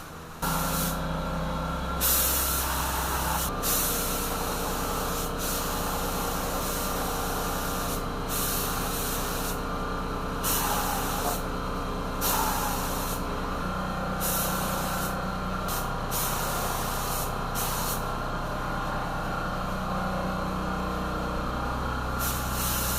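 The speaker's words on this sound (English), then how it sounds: "The last thing I want to do to this repair area is spray clear coat." Steady hissing spray from an aerosol can of clear coat in bursts over a car's frame rail repair, with brief pauses between passes, over a low mechanical hum in the background.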